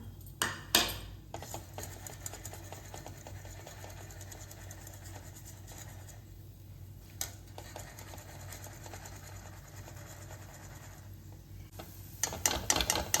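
Peanuts fry and get stirred in hot oil, a continuous sizzling hiss with scattered metallic scrapes and clinks of a ladle against the pan, louder clatter near the start and end.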